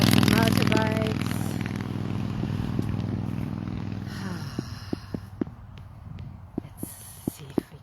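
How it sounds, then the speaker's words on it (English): Motorbikes and other road traffic pass on a busy road, a loud low rumble that fades over the first few seconds, followed by quieter surroundings with scattered sharp ticks and brief bursts. "Motorbikes."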